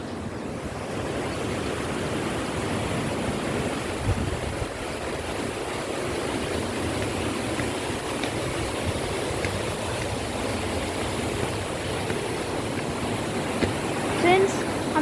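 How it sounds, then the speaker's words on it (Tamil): Water rushing steadily through a small dam, a continuous broad roar like surf, constant and fairly loud throughout with no break. "அங்கே பாருங்க, தண்ணியெல்லாம் எவ்வளோ அழகாக போகுதுன்னு"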